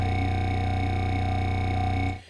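Buzzy synthesizer tone run through the FAW Circle 2 plugin's mouth filter, with a vowel-like formant sweeping up and down in a steady wobble before the sound cuts off.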